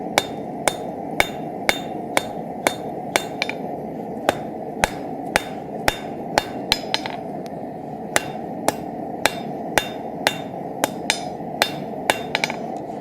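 Hot steel being forged on an anvil with a hammer to draw out tong reins, a long run of sharp, ringing metallic strikes in a steady, evenly spaced rhythm over a constant low roar, with no talking.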